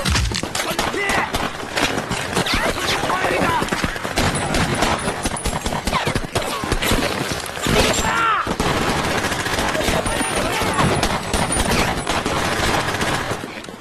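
Dense, continuous gunfire and explosions fill a Korean War battle scene as North Korean troops attack South Korean soldiers, loud rapid bursts layered over each other without pause.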